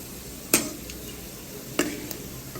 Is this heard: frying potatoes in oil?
yes